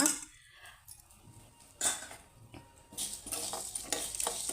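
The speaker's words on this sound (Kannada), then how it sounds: "ಕಾಳುಮೆಣಸು ಅಷ್ಟೇ, ನಿಮಗೆ ಪಟಪಟ ಅಂತ ಸೌಂಡ್ ಬರುತ್ತೆ, ಅದು ಸಿಡಿಯುತ್ತೆ" Black peppercorns and mustard seeds crackle and pop in a little hot oil in a pan, with scattered sharp bursts over a steady sizzle that grows busier toward the end, with no talking.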